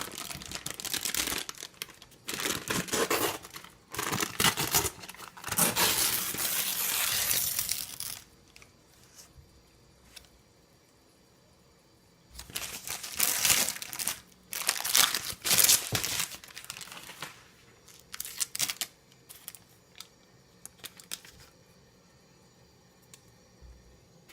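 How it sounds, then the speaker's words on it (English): Greaseproof paper crinkles and tears as it is peeled off a salted caramel chocolate cake, in close, loud bursts of rustling with quiet pauses between two main bouts and no talking. "I'm about to reveal it and take off the greaseproof paper."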